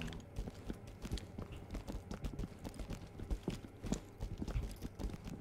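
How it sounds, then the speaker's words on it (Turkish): Rapid, irregular footsteps in the tactical shooter game Ready or Not, a dense run of soft thudding steps at low level throughout, sounding like several people moving nearby. "Bir ayak sesi duydum."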